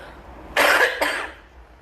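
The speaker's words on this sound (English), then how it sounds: "Let me cough, so they know that I'm still sick." A single close cough breaks out in two quick, harsh bursts against a quiet room, with no speech around it.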